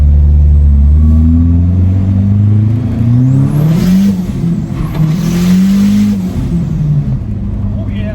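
SRT4-swapped Dodge Dakota pulling hard in second gear, loud engine roar with rising revs and turbo whine building over several seconds, close by, with someone speaking briefly over it.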